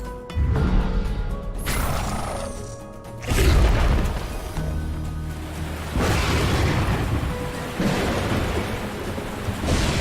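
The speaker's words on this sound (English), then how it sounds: "I'd love to know what kind of lightning bolts can literally explode mountains" Repeated heavy booms and crackling blasts from lightning bolts blowing apart mountains in the strategy game Into the Breach, loud bursts near 0.5, 3.3 and 6 seconds over a dense rumbling game sound mix.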